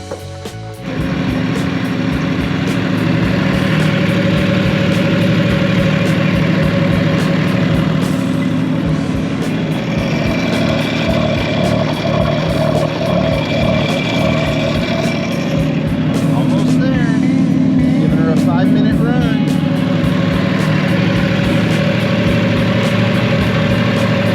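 A 2023 Yamaha Superjet TR-1 jet ski engine idles continuously on a hose to warm up, a loud, close, steady rumble with a faint rise and fall in pitch midway, running throughout without pause.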